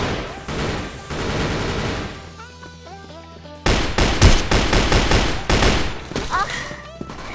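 FN-FAL rifle gunfire in the video game Crossfire, rapid repeated loud shots in bursts, with a quieter stretch of reloading and game sounds between volleys, while someone talks over the action.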